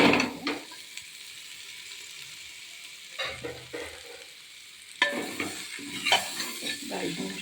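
Pumpkin and green gram with grated coconut fry in a pan, a soft sizzle broken by a few bursts of spoon scraping and stirring, close and fairly quiet, with no talk.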